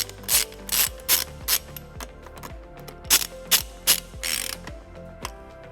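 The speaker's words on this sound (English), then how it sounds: "then we'll tighten it using a 10mm socket." A socket ratchet with a 10mm socket tightens a screw while a trailer wiring harness goes into a 2017 Toyota RAV4. It gives loud, close bursts of rapid clicking, about nine short runs separated by brief pauses.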